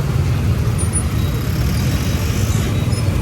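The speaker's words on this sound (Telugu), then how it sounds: "ఇంత ట్రాఫిక్ ఉందేం రా" Night road traffic in Hitec City, Hyderabad, a continuous low rumble of passing cars and heavier vehicles with faint high squeals mixed in.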